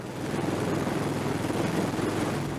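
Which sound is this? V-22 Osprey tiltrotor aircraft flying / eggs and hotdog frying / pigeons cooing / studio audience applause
V-22 Osprey tiltrotor aircraft flying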